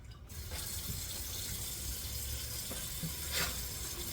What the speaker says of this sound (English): I'm going to turn the water on for a second because I'll wash my chicken.